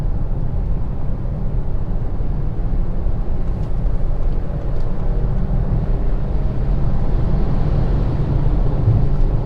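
A 2020 Ford Explorer ST engine held at about 3,500 RPM in gear while driving, a loud, steady low drone with road and cabin rumble and no other sounds.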